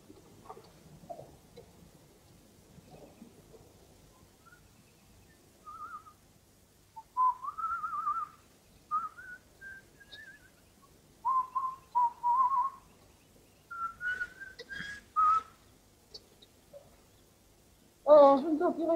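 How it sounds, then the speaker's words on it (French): A man whistles a tune in a 1938 comedy film scene: short melodic phrases come in bursts with pauses between them, faint murmuring underneath, and a louder noise arrives near the end. "Vous cessez de siffler."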